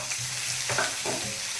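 Garlic sizzles steadily in hot coconut oil with mustard seeds and dried red chillies for a coconut-milk tapioca dish, giving a close, continuous crackling hiss with a few brief stirring scrapes and no talking.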